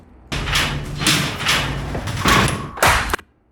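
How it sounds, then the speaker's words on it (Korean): A door is eased slightly open and then swings shut again during a special forces team's tactical entry, producing a series of scraping, rattling pushes that end in a muffled thud, loud and close. "문을 열어주는데 슬쩍 열어주니까 다시 닫히죠"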